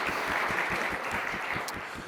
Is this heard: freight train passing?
no